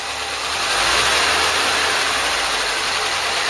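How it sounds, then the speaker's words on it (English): The engine of a Ford Cortina Mk3 revs hard and loud. It climbs within the first second, then holds a high, steady roar for the rest of the stretch, with no talking. "I mean, it'll rev right out now."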